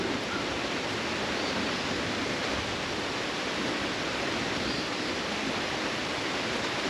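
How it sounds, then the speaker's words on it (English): A small creek flows beside a campground, a steady broadband rushing with no breaks, fairly soft and continuous, with no voices. "They have a beautiful little creek running through here."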